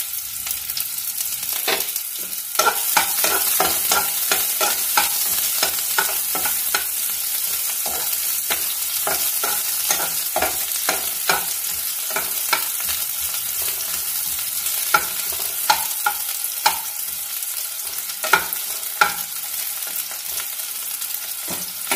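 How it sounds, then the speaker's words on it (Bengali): Sliced onions frying in hot oil, a continuous bright sizzle broken by frequent crackles and pops, with stirring scrapes throughout, up close and without talk. "তেল গরম হয়ে যাওয়ার পর আমি দিয়ে দেব আমার স্লাইস করা অনিয়ন।"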